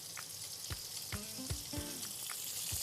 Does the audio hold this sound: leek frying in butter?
yes